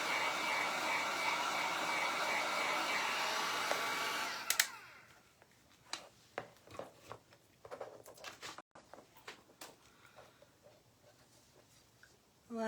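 A craft heat dryer blows loudly on a Magnolia Design Co. paper craft project for about four seconds, then shuts off. Light taps and handling noises follow.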